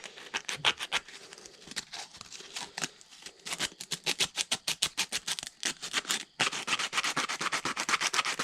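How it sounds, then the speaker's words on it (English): Sandpaper rubbing a wooden powder horn peg in quick, steady close strokes, the scratchy rhythm speeding up and growing louder toward the end. "And then you want to sand it a bit."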